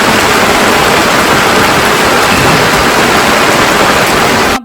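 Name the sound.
heavy rain pouring in a village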